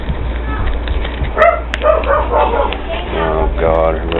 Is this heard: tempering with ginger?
no